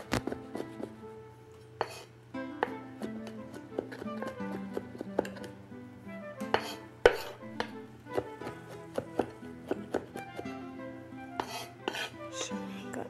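Knife chopping garlic finely on a cutting board in a home kitchen, a steady series of crisp, close taps with irregular rhythm and occasional louder knocks over a faint low hum.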